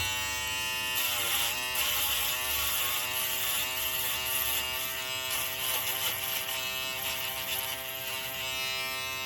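An electric foil trimmer buzzes steadily while cutting hair during a self-haircut, a close, continuous hum with slight wavering as it moves, with no talking.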